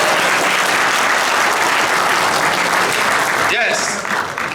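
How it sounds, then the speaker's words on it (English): An audience at a youth employability summit bursts into loud, sustained clapping for the speaker, dense and close, tapering slightly toward the end. "Hey, would you clap for me?"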